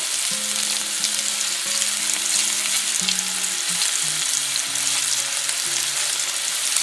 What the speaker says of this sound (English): once we get all the meat in here, it will cool down the grease a little bit